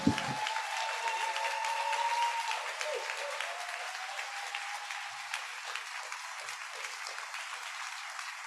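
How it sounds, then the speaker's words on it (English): Audience applause at an awards celebration, a steady sustained clapping from a crowd that holds evenly throughout, with a faint tonal hum in the background. "Can we give her another round of applause?"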